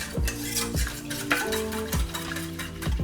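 A spoon scrapes and knocks rhythmically around a pot of pudding over low heat, repeated stirring strokes about every half second over a steady background hum, with music playing.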